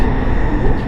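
Metro train running through an underground section of a partly elevated, partly underground line in Saudi Arabia, a steady loud low rumble and rolling hum from inside the carriage with no speech.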